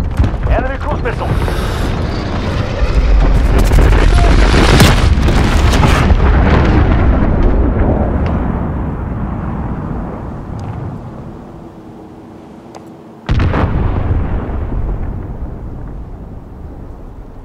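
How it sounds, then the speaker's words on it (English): Cruise missile explosions in Call of Duty Modern Warfare, a loud sustained rumbling blast that slowly fades, then a second sharp boom follows and rumbles on. "Enemy cruise missile."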